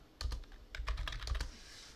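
A short burst of typing on a computer keyboard, about a dozen quick key clicks in two clusters, close but quiet.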